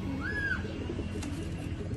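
A pigeon gives a single soft, rounded coo near the start, then only a quiet room background remains.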